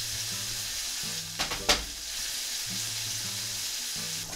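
Ingredients for penne al baffo fry in a pan, left to char slightly and seasoned with salt and pepper. A quiet steady sizzle runs throughout, with a couple of brief stirring clatters near the middle and no talk.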